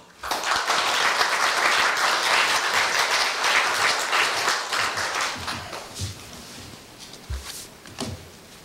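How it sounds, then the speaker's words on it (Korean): Audience applause at a Korea University staff retirement ceremony, a dense, loud wash of clapping from many hands that holds steady for several seconds, then thins out into scattered claps before fading. "박신 부장님을 큰 박수로 맞이해 주십시오"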